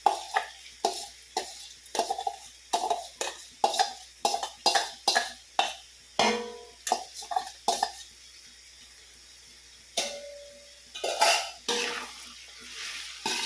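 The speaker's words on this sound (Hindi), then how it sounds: "तब तक हम इसमें ये जो हमारी मिक्स दाल है वो डाल देंगे" Mixed dal for vegetable khichdi goes into a metal pot and is stirred, a series of rhythmic close scraping and clanking strokes, then a pause and a few more scrapes, with no talk.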